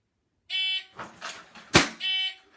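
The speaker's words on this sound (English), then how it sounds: "So if I wait until after the buzzer goes off" Two sharp electronic shot timer buzzer beeps during dry fire pistol draw training, one at the start and one at the end, with a loud gunshot-like crack and some rustling between them.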